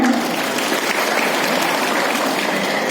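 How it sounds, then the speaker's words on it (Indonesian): Audience in a mosque hall gives a steady round of applause during a health briefing for hajj pilgrims, a dense, even clapping from many hands filling the whole stretch. "Kita tepuk tangannya."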